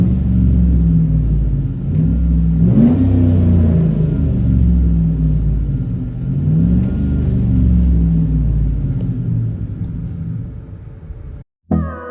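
Loud, low droning rumble of a 2008 GMC Yukon 5.3L V8 with dual straight-pipe exhaust, heard from inside the cabin, pitch rising and falling with throttle before cutting off abruptly.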